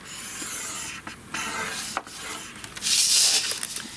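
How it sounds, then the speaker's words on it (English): Scoring thick card paper along a ruler for card making gives a dry scraping rub in several short strokes, close and fairly quiet, with a brighter, harsher pass near the end. "this paper is nice and thick, so I'm going to make sure I'm scoring nicely"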